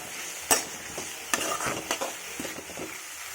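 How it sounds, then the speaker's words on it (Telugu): Biryani ingredients are stir-fried in a pan, with a gentle sizzle underneath. A spatula scrapes and stirs in irregular strokes, starting with one sharp clack. "ఇలాగా మనం ఫ్రై చేసుకోవాలి."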